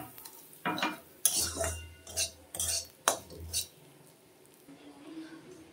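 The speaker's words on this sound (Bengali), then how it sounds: "2 থেকে 3 মিনিট এভাবে নাড়তে থাকবো, তাহলে সুজি ভালো করে ভাজা হবে।" Semolina (suji) being stirred and roasted in a pot with torn bay leaves, a spoon scraping and clinking against the metal in several short bursts, close and moderately loud, with quiet gaps between strokes.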